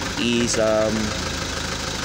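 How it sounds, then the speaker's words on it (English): A car engine idling roughly with one fuel injector cut out during an injector actuation test using a LAUNCH X-431 Pro3 scan tool, giving a steady uneven drone, with someone speaking briefly over it. "so again we cut out one of the injector. Okay, so you can observe the operation of the engine"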